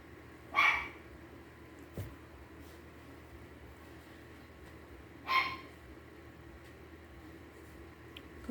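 A dog barks twice, single sharp barks spaced several seconds apart at moderate distance over a quiet indoor room.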